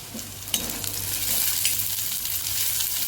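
Onion with grated ginger and garlic sautéing in a pan over medium heat: a continuous close sizzle, with a few sharper stirring scrapes near the start and no speech.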